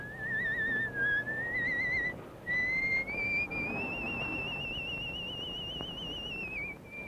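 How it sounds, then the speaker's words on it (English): A man whistles a tenor aria from Verdi's Luisa Miller, a clear, melodic whistled line with brief pauses between phrases, fairly close and alone. "That's one of the tenor arias he's whistling."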